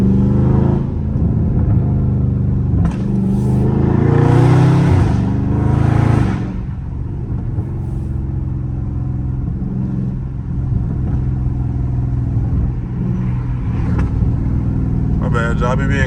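A Dodge Charger Scat Pack engine revs up and falls back with a deep rumble, loud and close, swelling for a few seconds before settling into a steady idle as a person talks over it.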